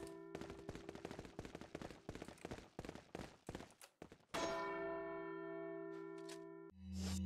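A bell rings with a loud, sustained, humming tone that holds for a couple of seconds, following a rapid series of sharp bangs and clatter.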